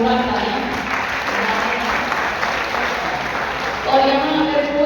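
Loud, sustained applause from the audience at an Independence Day mushaira poetry gathering in Kasampur Garhi, a continuous wash of clapping with voices mixed in beneath it.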